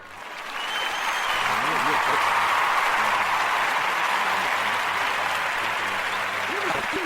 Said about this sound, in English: That's Nigel's applause.